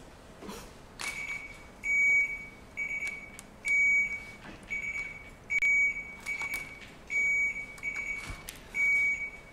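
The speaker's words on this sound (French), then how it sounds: "On va faire un test de buzzer." A quiz buzzer is tested before a quiz round, giving about eight short, identical high electronic beeps. They come in a steady series over faint room background with no talking.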